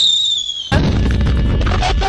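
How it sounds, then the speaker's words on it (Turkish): Jinx's ultimate rocket from League of Legends fires after a brief high tone, then a loud, sustained explosive rush and crackle fills the rest of the moment. "Göklerden bir ulti atıyorum."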